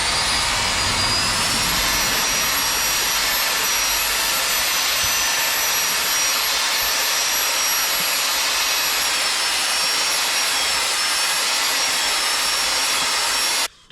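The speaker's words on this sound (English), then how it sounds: "This is my plastering whisk." A plastering whisk churns plaster in a loud, continuous, high-pitched motor whine that holds steady and then cuts out abruptly at the end, with no one speaking.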